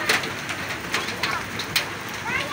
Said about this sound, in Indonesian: ini kondisi Semarang Genuk hujan ya